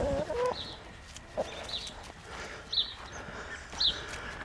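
Farm chickens clucking faintly at a distance, a few short calls spaced a second or so apart over a steady outdoor background hiss, with no speech.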